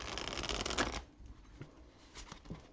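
Tarot cards are shuffled by hand, giving a dense, close riffling burst for about a second followed by a few soft taps and slides as the deck settles.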